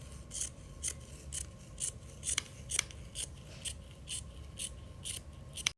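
Scissors snip through fabric around a printed design, a close series of crisp, rhythmic cuts about every half second over a low background hum.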